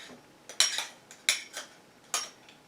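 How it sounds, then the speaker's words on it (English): A spoon scrapes and clinks in short bursts as it stuffs cookie dough into a spritz cookie press, with three or four sharp metallic scrapes close up against a quiet background. "You want to stuff it in with the back of a spoon"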